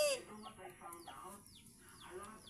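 Farmyard chickens cluck and murmur in short soft calls, a few birds close by, quiet and alone with no talking.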